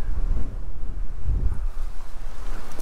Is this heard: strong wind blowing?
yes